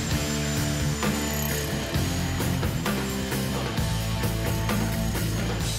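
A jackhammer breaks into dense, hard clay, sounding as loud, continuous rapid pounding with short breaks in its rhythm.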